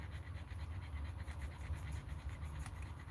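A dog pants close by in steady, quick rhythmic breaths, soft and continuous with no other sounds.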